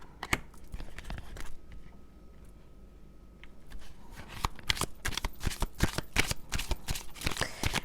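Tarot cards being handled and drawn, crisp papery riffles and snaps in quick irregular bursts, close and fairly soft, busier in the second half.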